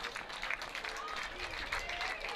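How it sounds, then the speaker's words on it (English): Applause for a girls' JV lacrosse team at the end of a tied game at Bella Vista, a steady spread of clapping from a modest outdoor crowd with some cheering, continuous for a couple of seconds. "a nice round of applause here for the Bella Vista Broncos"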